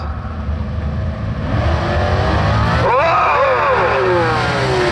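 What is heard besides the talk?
two 9-second drag racing cars launching down the track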